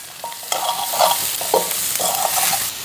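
Soya chunks and chickpeas stirred in a hot pan for a vegetable kothu, steady close sizzling with repeated spatula scrapes and clinks in an uneven rhythm, no talking.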